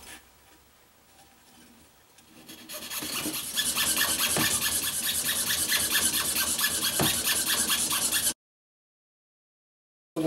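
A small saw cutting a piece of pearl for a guitar inlay, a steady close rasping scrape with rhythmic strokes that starts softly and grows louder before stopping abruptly.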